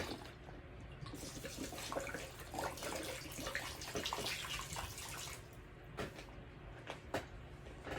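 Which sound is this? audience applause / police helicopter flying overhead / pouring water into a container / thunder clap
pouring water into a container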